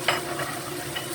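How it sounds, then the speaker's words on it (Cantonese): Pork ribs that were fried first go into a pot of boiling soup while cooking braised ribs with shiitake mushrooms. Close stirring and bubbling sizzle follow, with a few sharp clinks and splashes and no talking. "湯熟滾咗啦，咁啊放埋啲排骨落去"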